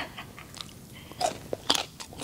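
Crisp, close bites and crunchy chewing on raw baby mango dipped in fermented fish sauce, several sharp crunches spread over about two seconds with no talking.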